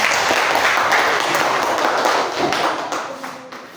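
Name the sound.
classroom applause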